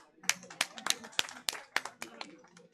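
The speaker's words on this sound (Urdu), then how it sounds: "سب سے پہلے آپ لوگوں کے لیے تالیاں" Scattered, rhythmic clapping from a few hands at a lawyers' convention in Rawalpindi, about ten distinct sharp claps spaced roughly a third of a second apart, fairly close and quiet, trailing off toward the end.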